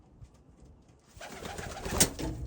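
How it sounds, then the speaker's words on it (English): Pigeons in a pen cooing, a soft low coo rising from near silence and continuing as a gentle murmur. "Currently, this pen is all of my pairs of pigeons."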